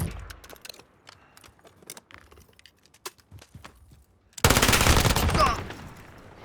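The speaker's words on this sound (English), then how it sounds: "you just look in the general direction and start firing" Gunfire from a weapon in the video game Call of Duty Modern Warfare: scattered sharp shots and clicks at first, then a loud, dense burst of rapid automatic fire near the end, with no talking.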